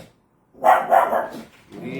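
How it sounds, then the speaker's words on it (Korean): A puppy wakes at dawn and barks two or three sharp, close yaps in quick succession, followed by a softer whimpering yip. "새벽에 강아지가 갑자기 깨서"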